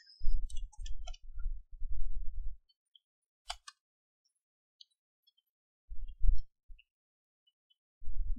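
An SQL query is typed on a computer keyboard: short bursts of muffled keystroke thumps and light clicks come in uneven runs, separated by quiet pauses.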